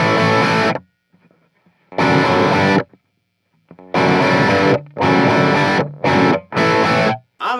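An electric guitar plays through a Marshall MKII Studio amp in a crunchy, overdriven tone, with loud distorted chord stabs separated by short silences, close and unaccompanied.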